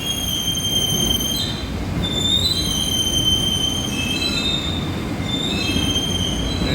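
A New York City subway train's wheels squeal in a loud, high metallic screech. The screech comes in repeated waves over a steady rumble of rail noise from inside the car, with no talking.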